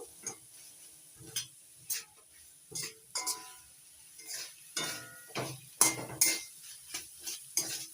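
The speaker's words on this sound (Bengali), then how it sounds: "এবার নাড়াচাড়া করে ভালো করে কষিয়ে নেব" A spoon stirs chili powder being sautéed in a pan for samosa filling, giving a series of clinking, scraping strokes at an uneven rhythm with a faint sizzle between them, close and fairly quiet.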